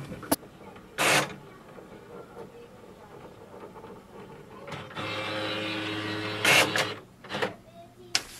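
HP OfficeJet 8012 printer making a copy: intermittent mechanical whirs and paper-feed bursts, including a sustained motor drone midway, with sharp short clicks between, close and moderately loud.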